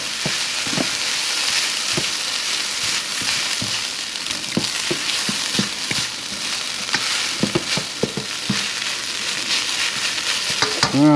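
Chicken fried rice sizzling and crackling steadily in a hot pan, with scattered close scraping and tapping from stirring as the rice heats through; no voices.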